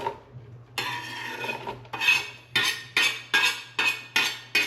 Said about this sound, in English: I'm going to saute these onions, get them nice and, you know, translucent.